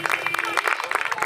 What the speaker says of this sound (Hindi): एक बार जितेंद्र जी के लिए जोरदार ताली बजा दी।